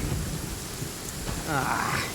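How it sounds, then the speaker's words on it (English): A thunderstorm in the video game Genshin Impact: steady, close rain hiss with a low rumble of thunder that swells near the end, heard alone without talk. "Uh-oh! Lightning storm!"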